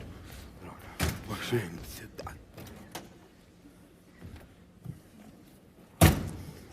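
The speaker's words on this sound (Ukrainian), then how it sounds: "Не гупай дверима." Several hard thuds of a car door being shut, the loudest near the end, with people talking and shouting in between.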